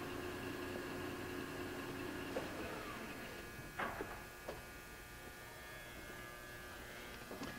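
A 24 by 120 inch Hwacheon engine lathe runs with its spindle turning, giving a steady electric hum and whine with a few brief clunks, heard nearby in a quiet workshop.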